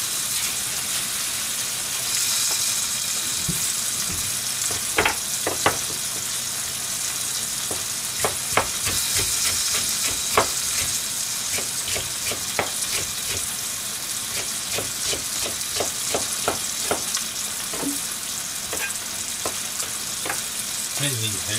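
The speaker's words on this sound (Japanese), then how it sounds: "すぐいろんな音をしますね。 バチバチと音がします。" Green onions sizzle and crackle in a hot frying pan, a continuous hiss dotted with sharp pops and snaps, close and steady throughout, with no talking.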